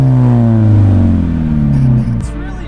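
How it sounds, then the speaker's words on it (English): A car engine revs loudly and steadily close by, its pitch sliding slightly before a quick throttle blip and a drop back to idle. "We're gonna give it a little rev just to show everybody that I'm really not that loud."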